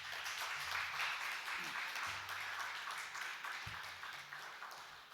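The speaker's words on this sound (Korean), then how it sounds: "이 시간 선교사님 나오실 때 우리 박수로 한번 환영해 주시기 바랍니다." A church congregation claps during a Sunday service to welcome a missionary coming forward, a steady, moderately distant applause running throughout with faint low tones underneath.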